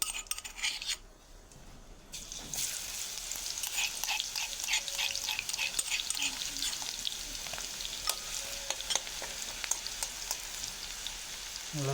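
Finely chopped garlic frying in oil with cumin seeds, a close, continuous crackling sizzle with brief pops and a short dip near the start before the hiss steadies, no voices.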